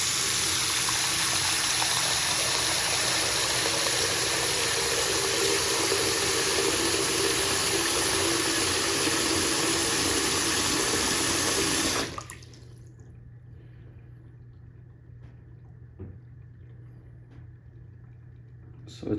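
Water rushes loudly from a tap into a sink and down the drain, a steady broadband gush for about twelve seconds before stopping abruptly, leaving a faint quiet background.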